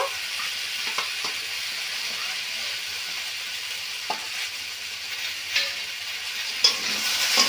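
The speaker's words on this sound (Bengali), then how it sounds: "সর্ষে বাটাটা মশলাটা ভালো করে একটু সবজির সঙ্গে একটু কষে নেব" Mustard paste ground with green chilies is stirred into vegetables frying in a pan for Bengali shukto. A steady close sizzle runs throughout, broken by occasional scraping strokes of the spoon, with no talk.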